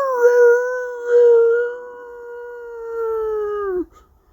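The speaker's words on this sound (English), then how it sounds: "listen to that howling now" Howling from a dog or wolf, one long sustained wavering howl that slides slightly downward, close and loud, then cuts off abruptly with no other sound.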